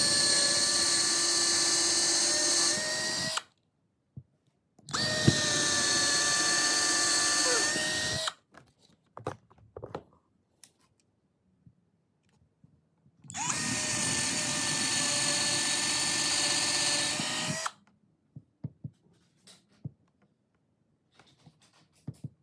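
A power drill bores pilot holes for mounting a pipishell PILFK1 full-motion TV mount: three long, loud, close whining bursts of several seconds each, separated by quiet gaps with light clicks and handling noises.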